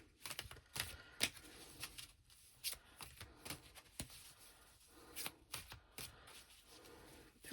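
Tarot cards shuffled by hand, a rapid run of crisp riffling flicks and soft papery slides in uneven bursts, close up and fairly quiet, with no talk.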